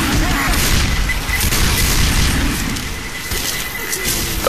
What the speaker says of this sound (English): Throw the pipe bomb!